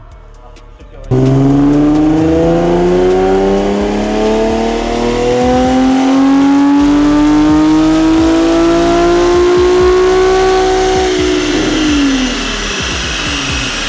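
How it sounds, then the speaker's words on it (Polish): A Nissan 370Z strapped to a dynamometer for a baseline power run roars to life and climbs steadily through the revs in one long, loud pull, then drops off near the end. The rising engine note is close and dominant. "Wjechaliśmy na hamownię, auto przypięte. Nie ma co czekać, odpalam, rozgrzewam i robimy pomiar referencyjny"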